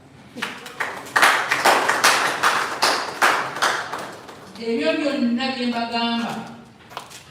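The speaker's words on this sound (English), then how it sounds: "I want you to clap." A handful of sharp claps rings out in a loose, uneven rhythm at a secondary school gathering, followed by a short burst of voices.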